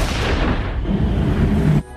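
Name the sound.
trash basket exploding in a film scene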